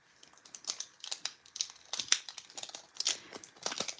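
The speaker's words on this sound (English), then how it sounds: "you hear the crinkling because I'm taking a new needle" A plastic bag crinkles up close as a new needle is taken out during hand stitching, with soft irregular rustling bursts and crackles and no talk.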